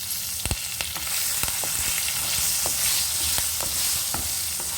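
Red and green chillies fry in hot oil for tamarind rice, giving a steady close sizzle broken by sharp clicks and scrapes of stirring, with no voices.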